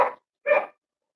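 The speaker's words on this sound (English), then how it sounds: "I think the dog's not happy." Two short, loud barks from a dog close by, separated by a brief pause, with no other sound around them.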